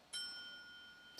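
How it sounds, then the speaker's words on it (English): A single faint bell strike rings out from a Breaking Bad episode, with a bright tone that lingers and fades, then a second strike begins at the very end. "The freaking bell."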